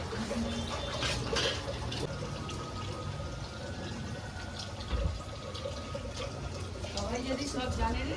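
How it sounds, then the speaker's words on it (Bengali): Water splashes and runs across a home courtyard floor as it is washed, a steady nearby wash of liquid with someone talking over it. "আর একটু উঠানটা ধুয়ে দিই"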